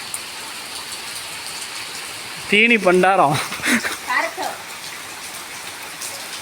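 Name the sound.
heavy rain falling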